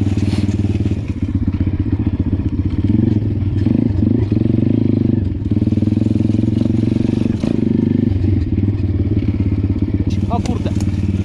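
A Pitgang 140 pit bike rides along a leafy trail, its small single-cylinder engine droning loud and close with rising and falling revs, while someone talks in Polish over it.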